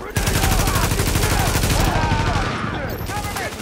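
Dense, rapid automatic gunfire from a video game firefight, loud and continuous with overlapping shots and some speech mixed in.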